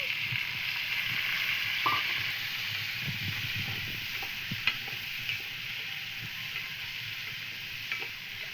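Garlic and tomatoes frying in a pan with lentils already fried for a bean and potato curry, a steady soft sizzle with occasional stirring scrapes and clicks, no talking.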